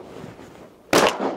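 A single loud shotgun blast during a duck hunt at a cattle pond, sharp and close after a quiet stretch of outdoor ambience, with its roar lingering briefly.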